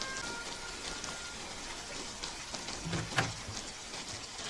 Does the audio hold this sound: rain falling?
yes